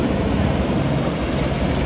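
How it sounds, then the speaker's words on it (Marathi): A helicopter passes overhead on the Kedarnath yatra route, a loud continuous rotor and engine roar that stays steady throughout. "तो बघा हेलिकॉप्टर"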